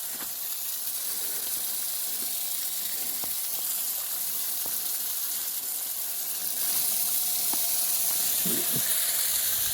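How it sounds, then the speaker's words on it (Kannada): A borewell pump on coconut farmland pushes out water in a steady hissing, gushing flow, close and continuous throughout, with faint knocks and no talking. "ನೀರು ಆನ್ ಮಾಡ್ತೀನಿ ಈಗ. ನೋಡಿ ಒಳ್ಳೆ ನೀರಿದೆ ಲ್ಯಾಂಡಲ್ಲಿ."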